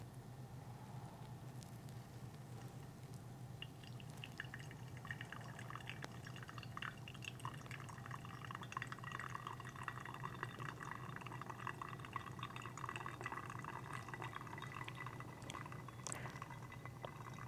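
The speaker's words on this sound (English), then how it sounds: "For my second pour, it will be a bigger one, up to 180 of water" Hot water is poured steadily over ground coffee for a pour-over brew, producing a soft, continuous trickle and splash close by that runs without a break, with no talking.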